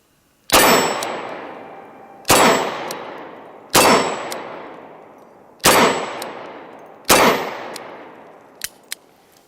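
Five loud metallic clangs from .38 Special rounds fired from a Smith & Wesson M&P340 revolver striking a steel target, each a sharp crack with a ringing decay, spaced about a second and a half apart, followed by a few faint ticks.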